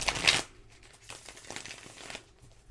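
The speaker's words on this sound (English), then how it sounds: "I'm going to shuffle one more time" A deck of playing cards is shuffled by hand, starting with a brief crisp riffle and followed by quiet, soft shuffling and rustling. It is heard close up and faint, with no speech.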